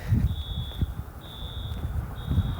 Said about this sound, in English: And I hear some alarm going off